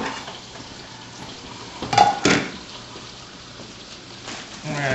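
A small plate and dishes handled in a home kitchen: a couple of sharp ceramic clinks and clatters midway, close by, over quiet background room noise.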